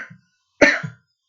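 A single close, sharp cough from a lecturer who is ill with a fever and a cold, breaking briefly into an otherwise quiet moment with no talk.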